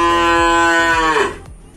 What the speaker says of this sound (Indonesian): kandang sapi tradisional milik seorang peternak muda